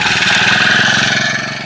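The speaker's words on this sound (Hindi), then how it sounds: "इंजन पहली बार में स्टार्ट हो गया" Small spray pump machine engine running right after starting on the first pull, a loud, close, steady buzzing two-stroke drone that holds throughout with no talk.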